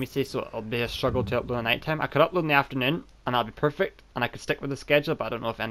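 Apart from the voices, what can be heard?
No everyday noise stands out behind the speech.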